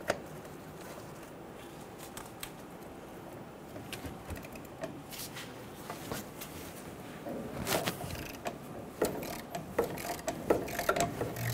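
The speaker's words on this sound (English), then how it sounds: "Using a 17 millimeter socket," Ratchet wrench with a 17 mm socket loosening the two front brake caliper bolts on a 2005-2015 Toyota Tacoma, giving repeated close clicking and metallic taps that grow louder and busier toward the end, with no talk.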